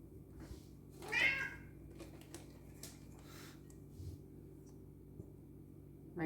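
A pet cat gives one short, fairly loud meow in a home kitchen, then a few faint clicks and taps of kitchen activity over a low background hum.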